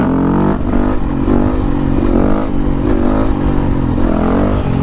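Yamaha YZ250F motorcycle with a new piston being run in at low revs in third and fourth gear, its engine droning steadily with mild rises and falls in pitch, loud and close.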